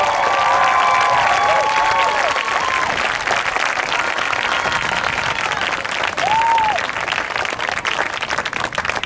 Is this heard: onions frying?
no